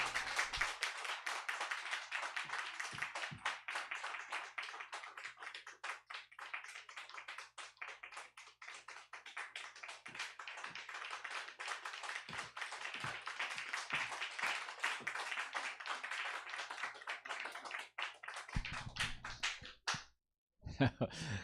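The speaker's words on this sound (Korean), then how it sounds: "나오실 때 은혜를 사모하며 박수로 맞이해 주시면 감사하겠습니다." Hands clapping in steady applause across a church congregation, welcoming a pastor to the pulpit at a women's mission dedication service; dense continuous clapping that lasts nearly the whole stretch before briefly cutting out near the end.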